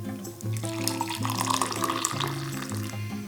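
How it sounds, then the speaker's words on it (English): Brewed French press coffee being poured out in a steady, soft liquid stream that rises in pitch as it fills, close and quiet. "So now you just pour your coffee out"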